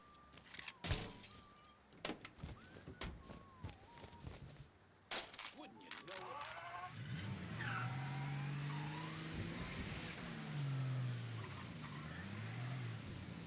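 A car in the video game Mafia III: Definitive Edition starts with clattering impacts and bangs, then a rising engine drone and squealing tires as it skids and accelerates, loud and close, with a few brief voices early on.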